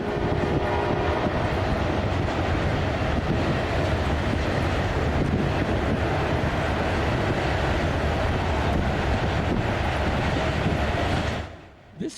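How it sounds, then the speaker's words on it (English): A fast freight train, likely running empty, rolls past on the railroad with a loud, continuous rumble and clatter that holds steady for about eleven seconds before cutting off abruptly at the end. "Oh, some train action again."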